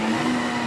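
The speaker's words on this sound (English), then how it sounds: "We're gonna put that all in the blender, and we're just gonna start this up and blend it really well until it's nice and smooth." Blender motor whirring steadily as it purées a vegan carbonara sauce base, a loud continuous drone with a strong hum throughout, alone without talk.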